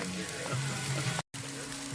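Zucchini sizzles in a hot pan with a steady, dense crackling hiss, close up, broken by one brief dropout.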